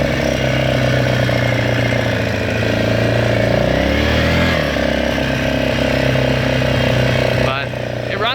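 A 1998 Yamaha Grizzly 600 4x4 ATV runs with a worn needle valve, a loud, steady engine drone with a slight pitch dip midway, while a person talks over it.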